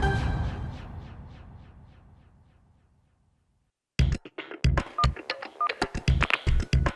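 A phone being dialed in a Hindi comedy scene: a fading ring or tone dies into silence, then a quick run of short, sharp keypad beeps, close and alone.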